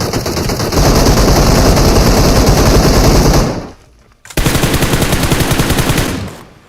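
Loud, sustained bursts of rapid automatic gunfire in PUBG Mobile, broken by a brief pause before another long burst.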